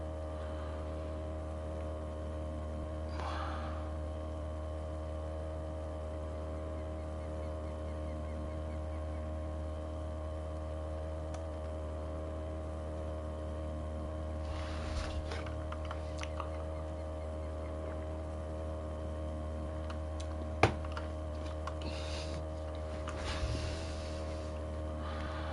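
A boat motor drones steadily as the craft crosses water in the fishing game Fishing Planet, a faint, even engine hum with a low tonal buzz and a few soft clicks and bumps, with no talking.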